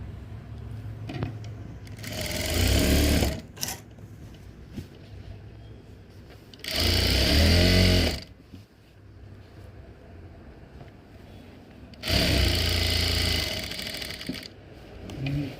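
An electric sewing machine stitches the slit of a V-neck kurti in three loud, close bursts of rapid whirring, each about one to two seconds long and separated by quiet pauses with faint handling noise.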